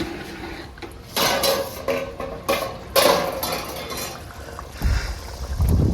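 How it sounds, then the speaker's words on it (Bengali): A lid lifted off a cooking pot of simmering fish, potato and broccoli curry in a village kitchen, several close metallic clanks and scrapes amid quiet kitchen noise. "এই ঢাকাটা খুলি"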